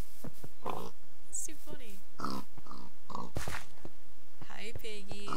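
Pigs grunt and oink intermittently close by, short snorting bursts scattered among people talking and laughing.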